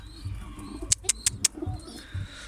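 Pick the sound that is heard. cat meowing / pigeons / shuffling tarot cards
pigeons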